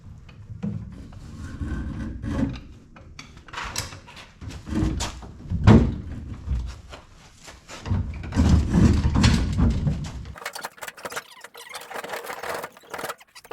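A door is worked off a 1957 VW Beetle oval during restoration, with metallic squeaks, clunks and scraping bursts at irregular intervals, close up, ending in lighter rattling handling noises.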